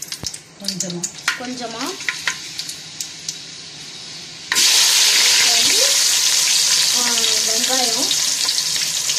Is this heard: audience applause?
no